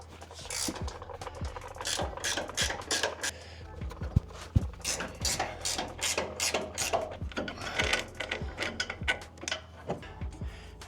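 A ratchet wrench works the 18 mm top bolts on a 2024 Ford F150 Tremor during a leveling install, giving repeated quick clicking strokes close by that are broken up by small metallic clanks.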